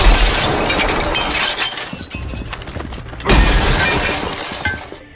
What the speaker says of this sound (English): The bathroom wall made a really loud noise when you broke it.